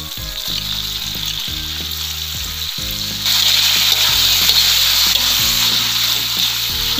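Tofu frying in a pan with chili: a loud, steady hiss of hot oil that rises partway through, with a rhythmic low thumping beat running underneath and no voices.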